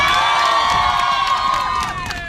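An audience in a morning gathering cheers and whoops for a young emerging artist guest, a loud sustained burst of crowd shouting and applause that tapers slightly near the end.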